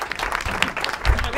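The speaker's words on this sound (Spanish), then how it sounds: "¡Aplausos!" A studio audience at a comedy TV show applauds with lively, uneven clapping and some crowd noise, with a voice briefly audible beneath the applause.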